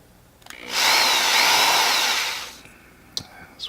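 A power drill bores into a plastic outrigger with a bent bit, whining loudly and steadily for nearly two seconds before winding down, followed by a couple of sharp clicks and knocks.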